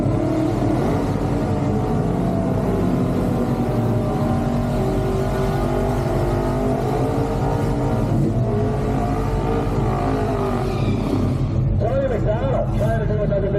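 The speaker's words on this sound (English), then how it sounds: "Trying to do another big burn out of the 37 Dodge pickup truck." 1937 Dodge pickup truck doing a burnout at a car event, its engine roaring at sustained high revs with a steady drone and whir, crowd chatter and a commentator talking over it.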